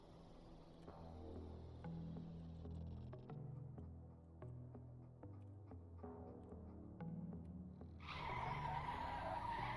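In the Stormworks video game, tires squeal on a vehicle as a sustained pitched whine layered over a humming engine, ending in a louder, harsher screech.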